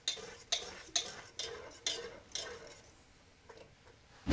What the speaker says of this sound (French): je vais la faire épaissir sur le feu en mélangeant en continu